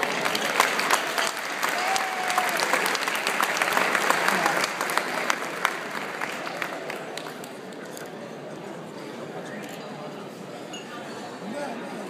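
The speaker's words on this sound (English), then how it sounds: "Let's welcome them with a round of applause." Applause at an award dinner, strong clapping for several seconds that thins out and fades to a low room murmur with faint clinks of glassware.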